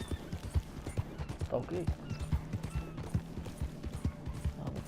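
A horse galloping in the Red Dead Redemption 2 video game, its hooves beating a rapid, regular clip-clop rhythm throughout, with brief speech heard over the hoofbeats.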